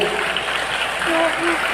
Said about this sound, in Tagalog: Isang malakas na palakpak para po sa kanila